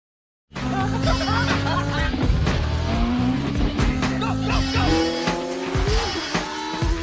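Cars in a police chase in an action film, engines roaring continuously with repeated sharp tire squeals and skids, loud and close throughout, with faint voices and laughter mixed in.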